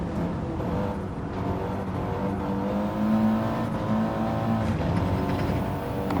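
Audi TT Gr4 race car engine in Gran Turismo 7, a steady close drone holding a constant tone with slight pitch shifts as it pulls through a corner, continuous throughout without speech.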